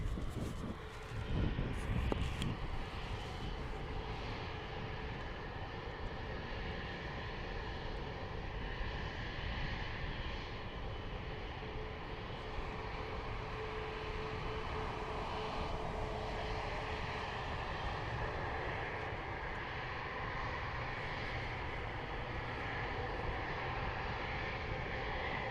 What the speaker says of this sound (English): definitely a proper plane